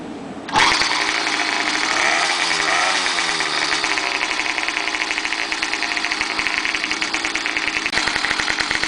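A PedalChopper Wide Ride Deluxe motorized bicycle engine fires up abruptly and runs cold after choking. A loud, buzzy small-engine idle carries on close with a rapid, steady knock and slight uneven wavering throughout.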